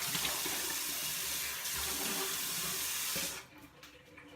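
Tap water runs strongly into a sink for a quick rinse after a straight razor shave, a loud steady close splashing rush that cuts off abruptly, leaving faint drips and handling sounds.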